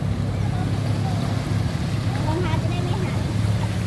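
Knee-deep floodwater surges through the streets of Wang Saphung, a flooded town, near a petrol station. It makes a steady, unbroken rushing wash over a low rumble, with faint voices in the background.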